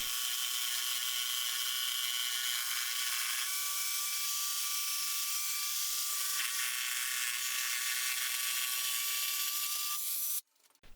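A Bosch GST 18V-Li S cordless jigsaw cuts an 18 mm beech glued-wood panel, giving a loud, steady high-pitched whine with a rasping saw edge that runs almost the whole time and then stops abruptly near the end.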